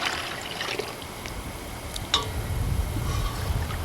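Water sloshes and trickles as a deer hide being brain-tanned into buckskin is moved into a bucket of cold water, with soft splashes and drips close by and no one talking.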